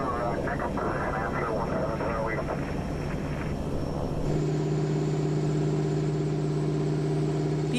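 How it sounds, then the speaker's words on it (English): A bush plane flying over roadless Arctic Nunavik, its steady engine drone running throughout, sharpening into a strong, even hum about halfway through as the aircraft passes close, with a voice speaking over the first part. "People here depend on bush pilots, like Johnny May."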